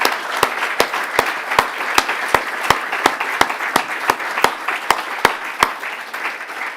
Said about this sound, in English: So you just give them a round of applause.